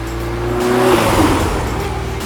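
A 1988 Lotus Esprit Turbo with its 2.2-litre turbo petrol engine revs up loud and close, the engine note rising then settling into a steady drone, with no one talking.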